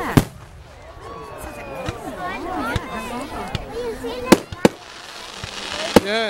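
Bonfire Night fireworks burst repeatedly, sharp bangs scattered through the clip with whistling, warbling rockets in between, while people talk and exclaim nearby.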